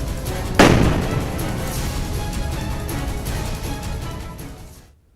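A Sarang artillery gun, an Army field cannon originally of Russian design, fires a single loud boom that rolls off into a long rumbling echo and fades away over several seconds.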